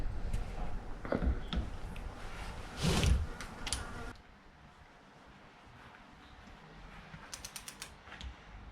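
A hand ratchet clicks as rocker bolts are tightened on the head of a 1965 Landcruiser F135 motor, with a few bursts of clicking and metallic creaks up close, followed by a quieter stretch and a brief rattle.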